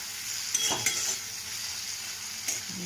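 Chopped tomatoes with salt cook down in a pan with a steady, soft frying sizzle, broken by a few light clinks of a utensil stirring against the pan.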